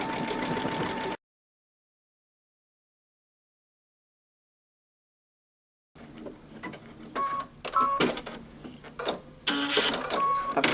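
A Babylock or Brother sewing machine stitches a decorative pattern, running briefly, then falling silent before resuming in uneven bursts of mechanical chatter with pauses as the fabric is turned.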